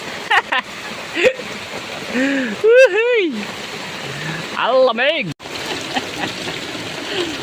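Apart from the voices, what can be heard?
heavy rain pouring, flooded street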